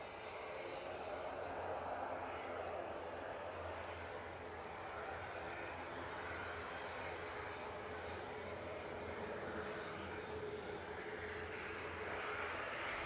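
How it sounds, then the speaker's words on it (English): A British Airways airliner's jet engines roar steadily at Edinburgh Airport under gusty wind, a broad continuous rumble from a moderate distance that stays fairly even throughout. "British Airways also on the move."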